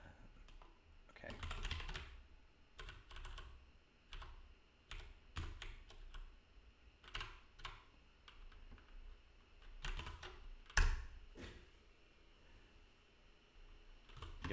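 Irregular bursts of typing on a computer keyboard during Ruby coding, with clusters of quick key clicks, pauses, and one sharper louder tap, close but fairly quiet against a faint fan hum, with no talking.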